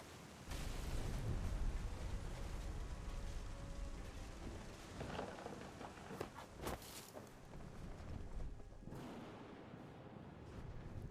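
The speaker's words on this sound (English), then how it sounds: "The thunder sounded much too close and full of angry power" A heavy thunderstorm in the game What Remains of Edith Finch, with steady rain hissing throughout and several sharp, close cracks and rumbles of thunder in the middle.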